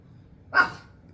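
A single sharp dog bark rings out close by against a quiet low rumble.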